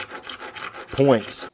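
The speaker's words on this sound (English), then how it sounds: "I'm going to take this rasp and just clean up some of these Forstner bit" A hand rasp scrapes across rosewood, cleaning up Forstner bit holes in a set-neck Telecaster body, giving several quick, close rhythmic rasping strokes; someone says a word partway through.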